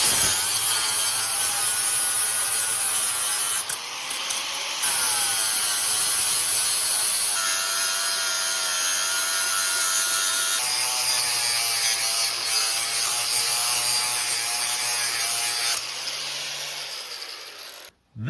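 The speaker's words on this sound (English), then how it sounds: "So I think I can grind that down and get some more clearance." An abrasive grinder works on a Dodge Dakota 5.2 Magnum exhaust manifold to gain clearance. It gives a continuous high-pitched grinding whine with a few brief pauses and shifts in pitch as the load changes, close and alone.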